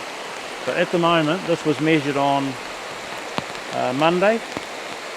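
Water flows down a shingle-bed stream in a dry-climate irrigation area with a steady, close, rain-like patter and rush, continuing beneath someone talking over it.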